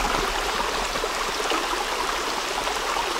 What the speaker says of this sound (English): I love the sound creeks make in the mountains.